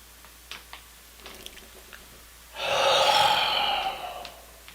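A single sharp, close breath in during a breathing exercise, a breathy rush lasting over a second after near silence with a few soft clicks.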